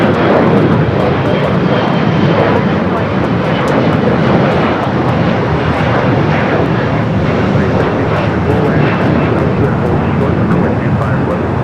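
An airplane taking off from runway 25 Right at LAX airport gives a loud, continuous jet engine roar with broad rumbling noise, steady and close for the whole stretch.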